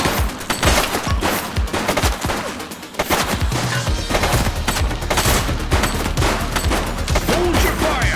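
Gunfire in The Precinct, an open-world police video game: dense, rapid bursts of automatic and repeated shots, loud and close, crackling almost without pause over a low rumbling bed.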